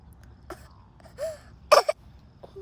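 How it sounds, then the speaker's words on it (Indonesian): A young child gives a few short fake coughs on request at home, brief throaty bursts with small gaps between them, close to the listener and louder toward the end. "Show me your cough."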